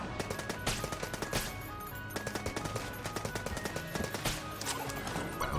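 Rapid gunfire in the dungeon-crawler game Enter the Gungeon, with dense bursts of shots crackling nearly nonstop over a busy synthetic backdrop and no talking.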